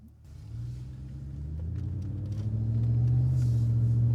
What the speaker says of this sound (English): Yeah, old school V8 sound.